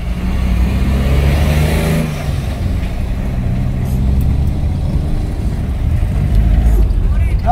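A car passes very close on a road, its loud engine and tyre roar holding steady throughout with a slight swell near the start and end.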